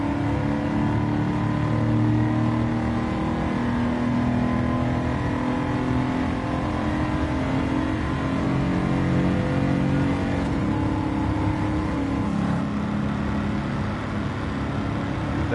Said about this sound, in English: Let's take the squatted supercharged Tundra around a lap of the road course here at Daytona.